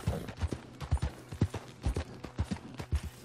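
Horse hooves clip-clopping in Red Dead Redemption 2, a steady walking rhythm of sharp, close hoofbeats in even pairs, heard alone.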